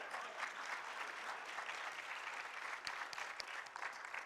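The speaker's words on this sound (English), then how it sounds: "Once again, nice round of applause, please." Steady applause from a live audience at PAX East 2020 fills the whole stretch, dense clapping at an even level with no voices standing out.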